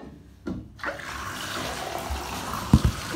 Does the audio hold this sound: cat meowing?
no